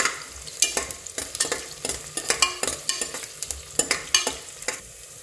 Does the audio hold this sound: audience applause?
no